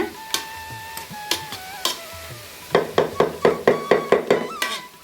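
Cooked green mung dal is mashed in a pan for traditional Tamil Nadu suzhiyam sweets made with jaggery: a few scattered knocks, then a fast, regular series of soft thuds and taps, close by.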